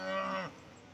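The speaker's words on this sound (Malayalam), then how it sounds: "ഇടി കൂടുന്ന എരുമ നല്ല മുറ ക്രോസ് എരുമ കിടാവ് ഇതാ ഇവിടെ നിൽപ്പുണ്ട്" A young Murrah cross buffalo calf lets out a single loud, close moo that cuts off sharply, followed by quiet background.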